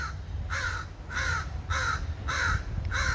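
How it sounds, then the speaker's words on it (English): Crows cawing near a heavily loaded apple tree in a garden, five evenly spaced harsh caws over steady low background rumble, moderately close and clear with no talking. "think the crows can't wait till harvest time."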